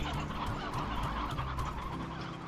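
Chickens and roosters cluck and squawk in the video game Slime Rancher, a dense overlapping flock heard close and loud over steady game ambience.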